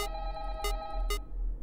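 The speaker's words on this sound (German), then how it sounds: "Telefon." Electronic telephone ring in the horror fangame Five Nights at Candy's 2, three short bright bursts spaced about half a second apart over a low steady hum, fairly quiet.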